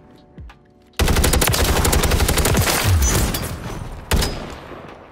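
Rapid SOA Subverter gunfire from the Call of Duty MW3 video game erupts after a quiet second, a loud, dense burst of automatic shots, followed by a final sharp volley.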